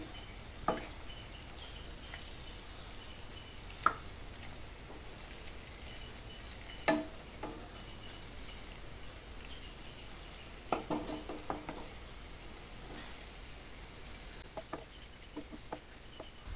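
Fried fish being stirred into gravy in a home kitchen pan: a steady low sizzle runs throughout, broken by occasional sharp scrapes and knocks of the spoon against the pan, with no talking.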